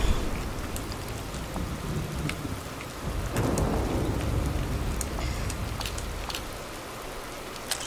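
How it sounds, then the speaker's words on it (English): Heavy rain pours in the Disney Dreamlight Valley video game with a steady hiss of drops on surfaces, while a deep rumble of thunder rolls through the middle and slowly fades, with no voices. "Because it's pouring down."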